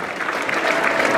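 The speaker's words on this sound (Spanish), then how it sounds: "bríndele el aplauso merecedor a la reina de los pollos" Applause and crowd noise for the chicken queen at the Feria de la Piña fair, a steady dense wash of clapping and cheering throughout, loud and continuous.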